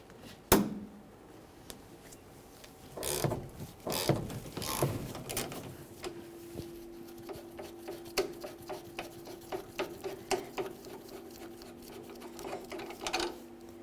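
Ratcheting clicks and mechanical whirring as T50 bolts are backed out of the tailgate hinges on a 1998-2011 Ford Ranger, irregular bursts with a steadier run of rapid tool chatter in the second half, fairly close.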